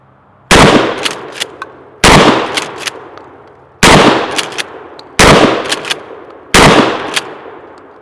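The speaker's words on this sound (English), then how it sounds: "let's put a few rounds through the pistol grip, full-size 20-inch gun here" Five loud, sharp shotgun blasts from a Mossberg pistol-grip 20-inch shotgun fired outdoors, spaced about one and a half seconds apart, each followed by a short echoing tail.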